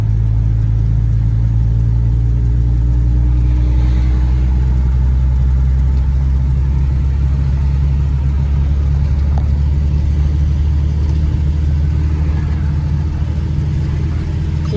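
Engine of a 1933 Cadillac V12 Town Coupe while driving, a steady low rumbling drone with a smooth mechanical hum, loud and close, holding even throughout.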